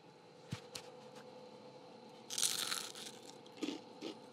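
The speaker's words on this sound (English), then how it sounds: "Let them hear that crunch." Crunching bites into crispy homemade fried onion rings, close and quiet: a couple of sharp snaps early, then a dense crackling crunch burst, followed by softer chewing crunches.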